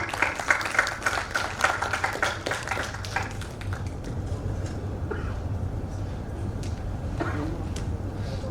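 Audience applause welcoming guests onto a conference stage: moderate, steady clapping from a room of people at some distance, gradually thinning out, with faint voices underneath.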